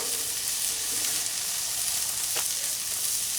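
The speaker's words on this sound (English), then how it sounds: "I'm gonna throw some butter in there" Butter sizzles and fries steadily in a hot pan while an English muffin breakfast sandwich is being cooked, a dense, loud hiss close up with one brief scrape of stirring partway through.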